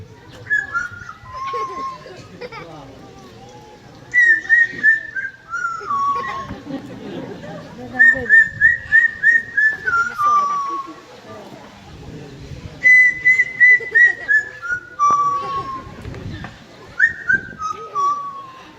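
An animal at African Lion Safari whistles a made-up tune in a string of clear, rising and falling tonal phrases, with short pauses between them, while a presenter talks over much of it.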